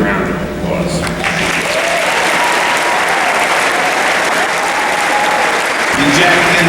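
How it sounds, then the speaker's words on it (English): A large audience at a university fall commencement ceremony breaks into sustained applause, dense clapping filling the hall steadily for several seconds, then shifting at the end as a voice begins over it. "let's congratulate each other with a sincere round of applause"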